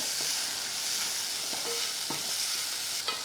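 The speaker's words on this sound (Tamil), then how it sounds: "நல்லா லைட்டாக ஒரு வதக்கு இந்த மாதிரி வதக்கி விட்டுட்டு" Spices with turmeric and asafoetida being sautéed in a pan for a Pongal meal give a steady soft sizzling hiss, broken by a few brief scrapes and clinks of stirring, with no talking.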